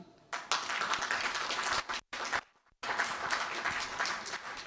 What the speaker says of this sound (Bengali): আপনারা তাদের জন্য করতালি দিন